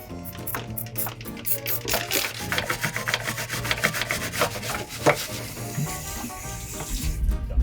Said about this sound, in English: Now we give it a good scrub.